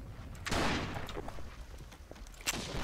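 Gunshots in a pirate video game, two loud bursts about two seconds apart with fainter scattered pops between them.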